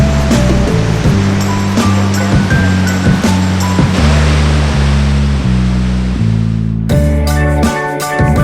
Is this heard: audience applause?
no